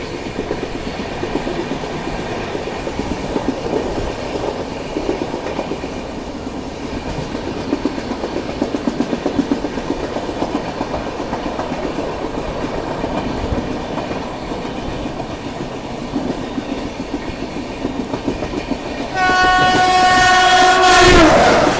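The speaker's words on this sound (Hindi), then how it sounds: "अभी एक और बार क्रॉसिंग होने वाली है ग्रांड ट्रंक एक्सप्रेस से" Indian Railways express passing the Grand Trunk Express near Manikgarh, a loud steady clatter of wheels and rumbling coaches, then a sharp blaring train horn near the end that swells louder, with no talk.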